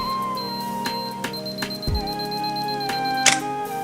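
A camera set on self-timer ticks through its countdown, giving a string of sharp mechanical clicks and a steady electronic beep before the shutter fires, all close and clear with no talk.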